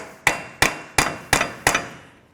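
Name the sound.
hammer striking a punch in axle center hole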